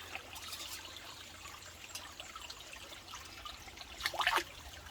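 Water trickles and splashes as a cooking pot is rinsed out at a rainy solo campsite, a low wash of dribbling liquid building to a brief louder splash near the end.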